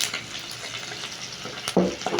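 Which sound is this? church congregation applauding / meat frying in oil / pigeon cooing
meat frying in oil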